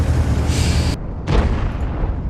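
In the World of Tanks video game, a tank cannon lets out a heavy, low boom, with a rumbling background and a second muffled blast shortly after. There is no talking.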